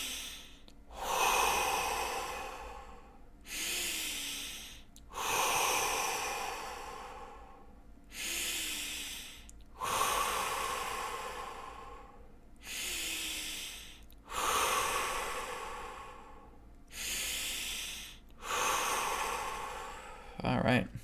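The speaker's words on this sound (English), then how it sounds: "deep breath in." Deep, forceful breaths of the BCR technique's phase 1 breathing: about nine long inhales and exhales in a steady rhythm, close to the microphone and airy, heard alone without talk.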